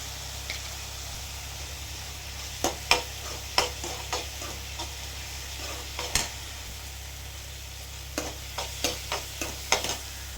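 Tomatoes with turmeric and salt sauté in a pan with a faint, steady sizzle, broken by clusters of sharp spatula scrapes and taps against the metal.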